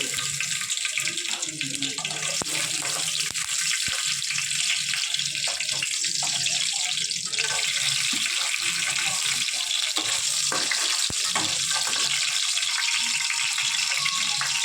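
Peanuts fry in hot oil for semiya upma tempering with a steady, dense hiss and crackle that stays constant throughout, with a few faint clicks mixed in.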